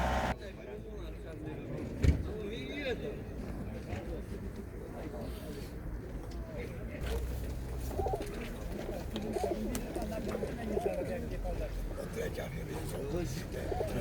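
Pigeons coo repeatedly nearby amid a busy outdoor crowd at a pigeon market in Radom, Poland, with people talking and occasional car and door sounds in the background.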